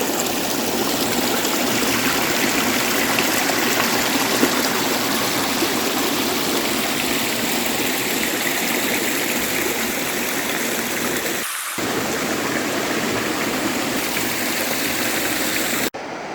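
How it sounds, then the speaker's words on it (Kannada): A forest stream on the Kudremukha trek in Karnataka rushes steadily and loudly close by, a continuous broad wash of flowing water with only a momentary dip partway through. "ಮಧ್ಯ ನದಿ ಹರಿತಾ ಇದೆ. ನದಿ ಅಂದರೆ ಸ್ಟ್ರೀಮ್."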